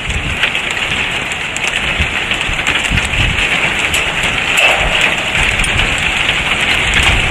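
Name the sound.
hail falling during storm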